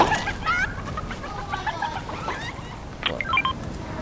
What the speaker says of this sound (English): A lot of chickens coming.